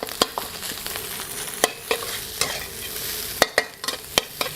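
Fried rice tossed and stir-fried in a wok street-food style, continuous sizzling hiss punctuated by sharp, irregular spatula scrapes and clanks, close and alone without speech.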